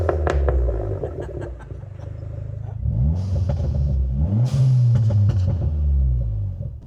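A Dodge Neon SRT-4 engine revs hard while driving, rising and falling through several loud pulls with a steady close rumble and no talk.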